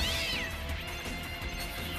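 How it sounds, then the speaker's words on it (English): A cartoon cat gives a brief rising-and-falling yowl at the start, followed by a busy action soundtrack. "Oh, that poor cat."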